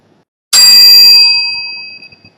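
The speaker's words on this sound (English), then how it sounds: "So this would be the first round, the bell sound." A single bell marking the start of a timed round strikes once, ringing out bright and clear, then fades slowly over about two seconds.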